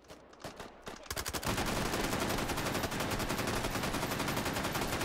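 Rapid automatic gunfire in the VR shooter Hot Dogs, Horseshoes & Hand Grenades, a few scattered shots at first, then a loud, sustained stream of dense bursts that continues to the end.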